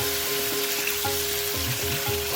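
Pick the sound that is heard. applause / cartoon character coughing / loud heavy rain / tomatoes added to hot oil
tomatoes added to hot oil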